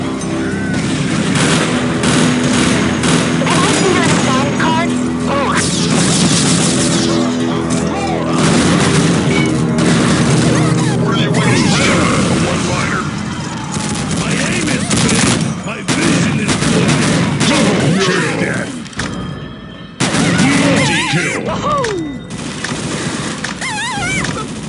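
Relentless Ballistic Weapons gunfire in an Unreal Tournament 2004 deathmatch: loud rapid bursts, booming blasts and explosions pile up densely, with shouted voices and music mixed into the chaotic battle.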